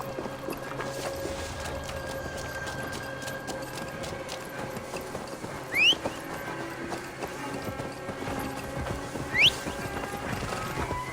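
A horse galloping in the Viking-era video game Assassin's Creed Valhalla: steady rhythmic hoofbeats under ambient game music, with two brief whinny-like squeals and no talking.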